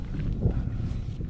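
Low, rumbling wind buffeting against the microphone, steady and close, with no other clear sounds.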